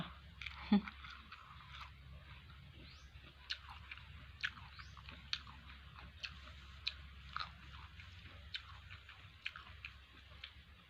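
Chewing kapok fruit mixed with red ants, close up: wet crunching bites and soft mouth sounds repeating at a slow, irregular pace over a low background hum.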